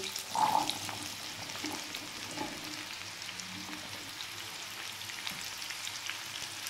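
Turnip and potatoes fry in a pan, giving a soft, steady sizzle with faint crackles and a few light stirring scrapes close by, without any talk.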